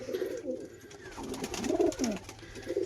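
Pigeons cooing nearby, a few throaty rolling calls in succession over a faint low hum.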